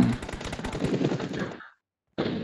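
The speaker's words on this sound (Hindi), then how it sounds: "जो फायरिंग पास से आया था।" Rapid close-range gunfire in the PUBG video game: a burst of quick, evenly spaced shots lasting over a second, then a brief silence before another loud burst begins.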